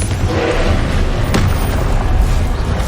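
Confringo fire spell blasting in the video game Hogwarts Legacy, a loud, sustained rumbling boom with a sharp crack in the middle, amid dense combat noise.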